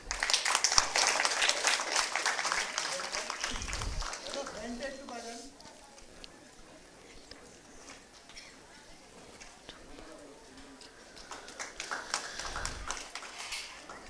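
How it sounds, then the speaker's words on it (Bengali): Audience applause at a lifetime achievement award ceremony in Bengal, broad clapping swelling loud at the start, easing into a softer patter mid-way, then rising again near the end, with a host's voice over it. "এবার জোরে করতালি।"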